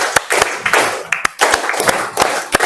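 Students in a classroom clap in unison through a patterned rhythm, sharp loud claps spaced in a steady beat with bursts of group clapping between them.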